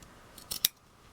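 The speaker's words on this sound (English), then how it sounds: "I'm actually cutting about 1/8 of an inch seam allowance between the fingers" Scissors snip through cloth doll fabric, trimming a narrow seam allowance between the fingers; two or three quick, crisp close cuts stand out against near silence.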